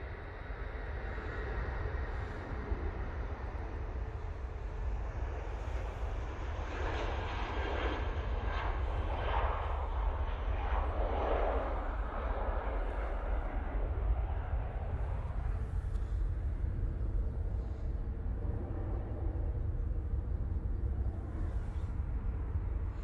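A Virgin Atlantic airliner arrives at Manchester Airport from New York JFK, a steady, far-off jet engine roar that swells slightly in the middle and stays continuous throughout.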